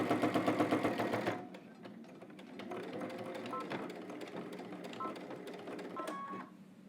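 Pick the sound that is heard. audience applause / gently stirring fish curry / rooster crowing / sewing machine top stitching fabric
sewing machine top stitching fabric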